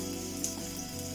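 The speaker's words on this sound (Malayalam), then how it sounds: "വെളുത്തുള്ളി ഒന്ന് നന്നായിട്ട് മൂക്കട്ടെ. വെളുത്തുള്ളി മൂക്കുമ്പോൾ ഒപ്പം പച്ചമുളകും മൂത്തോളും." Garlic and green chilli frying in hot oil make a continuous, even sizzle with a faint low hum behind it. The sound is soft and steady, with no talk.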